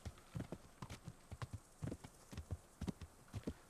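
Horse hooves clip-clopping in a steady trotting rhythm while riding in the medieval video game Kingdom Come: Deliverance, fairly quiet with no voices over it.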